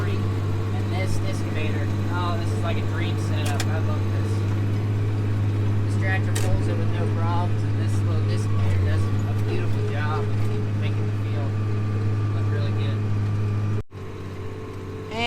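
A tractor engine runs steadily out in a field, a constant low drone holding level throughout with a brief dip near the end, while people talk over it.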